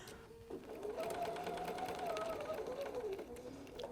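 A sewing machine steadily stitches the binding on a flannel rag quilt, a continuous close, even whirring hum that runs almost unbroken.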